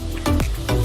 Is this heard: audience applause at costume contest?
no